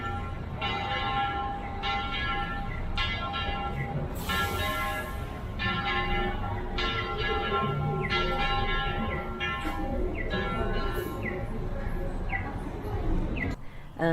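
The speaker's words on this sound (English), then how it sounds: "you'd hear the church bells" Church bells ring in Pátzcuaro, Mexico, in the morning, with repeated ringing strokes over a steady background murmur for the whole stretch.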